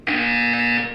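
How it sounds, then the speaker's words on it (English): Loud, steady electronic buzzer from the video game Portal 2, sounding abruptly and holding one harsh, even tone for about a second before cutting off, with nothing else heard. "You will hear a buzzer."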